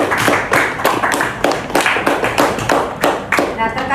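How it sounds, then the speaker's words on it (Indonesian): A classroom group claps together in quick, uneven bursts, an indoor round of applause heard close, with some voices mixed in. "Kasih aplaus untuk Zaikra."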